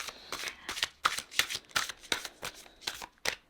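Very large, stiff cards being shuffled by hand without riffling, a series of crisp flapping swishes in an uneven rhythm, close and fairly loud.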